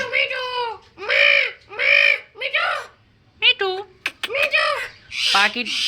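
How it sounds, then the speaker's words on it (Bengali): A pair of Alexandrine parakeets in a bird collection giving loud, harsh squawks close by, a series of about eight raspy calls in bursts with short gaps, some shorter chirps mixed in. "খুব সুন্দর চমৎকার একটা জোড়া চন্দনা টিয়া পাখি"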